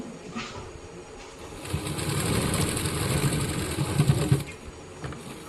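An electric sewing machine stitching a round seam on scrap fabric for children's pants, a close, rapid mechanical whirring that starts up, runs steadily for a few seconds and stops.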